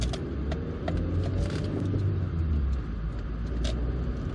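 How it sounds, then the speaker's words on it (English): A 2003 MG TF135 with its K-Series engine drives along on firm suspension, a steady rumbling engine drone with road noise and occasional creaks carrying on without pause, fairly close and moderately loud, with no talking. "I like the total delivery of a K-Series engine."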